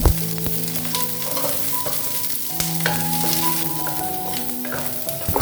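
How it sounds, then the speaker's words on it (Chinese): Scallion, ginger and garlic stir-fry in hot oil in a wok, giving a steady, close sizzle with scraping stirs and a few spatula knocks throughout. "油热后加入葱姜蒜"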